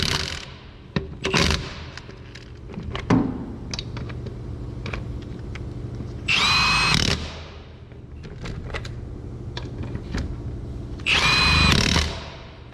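Power tool spinning lug nuts off a truck wheel on a Ford F100, two loud bursts of whirring separated by clinks and handling noises, close by, no talking.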